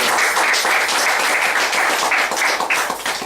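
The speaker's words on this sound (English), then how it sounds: "Congratulations to you. Round of applause." Loud, close applause from a graduation audience, many hands clapping in a dense, steady burst that tapers a little at the end.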